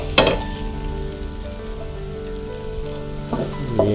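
Spices sauté in a pan as the base of East Javanese garang asem. A close, steady sizzle runs under a sustained tonal hum, with brief clatters near the start and end and no speech.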